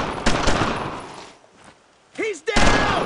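Loud, close machine-gun and rifle fire in the World War II shooter Brothers in Arms: Road to Hill 30 rattles in a heavy burst, fades briefly, then returns. A soldier's shout cuts through just before the firing resumes.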